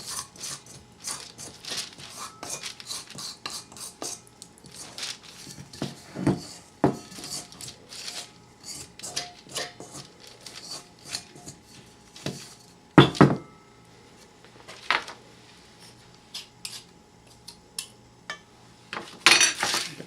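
Cake mixture scraped from a bowl, producing irregular close scraping, scuffing and knocking sounds in bursts over about twenty seconds, with no talk.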